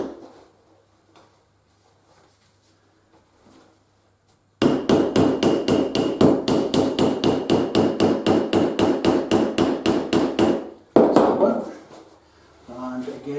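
A rivet is hammered into a canvas and leather bag with a rapid burst of about twenty sharp, evenly spaced, close metallic blows. The strikes follow a quiet stretch and are followed by brief talk.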